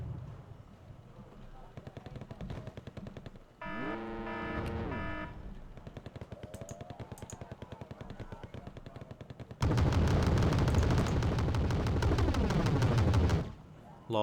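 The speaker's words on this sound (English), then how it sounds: "There was artillery too." Artillery fire and other gunfire in the Cold War strategy game Wargame: Red Dragon: repeated rapid booms and a long dense barrage of shots, with steady mechanical game sounds underneath.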